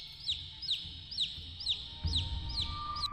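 A chicken clucks close by in a steady series of short, evenly spaced calls, about one every half second, over a low background rumble.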